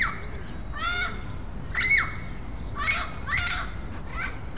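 Wild Amazon parrots clash with crows near a nest in Germany, producing harsh, repeated squawks and shrieks in overlapping bursts over steady outdoor background noise.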